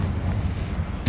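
A Confringo fire-blast spell in Hogwarts Legacy bursts out as a short, sharp crack near the end, over a low, steady rumble of game ambience.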